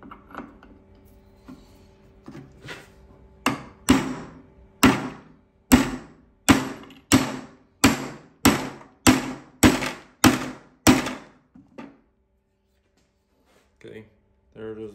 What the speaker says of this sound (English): knock it out with your hammer